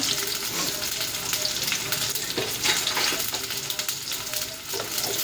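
Onions for a dondakai (ivy gourd) gravy curry fry in a pan with a dense, continuous sizzle and crackle, up close, broken now and then by soft stirring scrapes.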